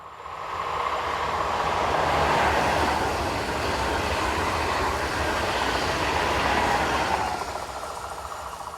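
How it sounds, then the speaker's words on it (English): A TGV high-speed trainset, number 509, rushes past on a French main line, a loud steady roar and rumble that swells in and holds close for several seconds before starting to fade. "we see TGV set number 509, working the 1344 from Nancy,"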